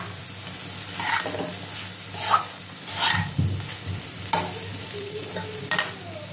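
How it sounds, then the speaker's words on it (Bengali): Spices being stirred in a frying pan while shutki bhorta masala with turmeric, chilli powder, whole green chillies and salt sizzles steadily, with several distinct scraping strokes of the spoon standing out over the constant hiss. "একটু নাড়বো, মশলাটা মিশিয়ে নিলাম"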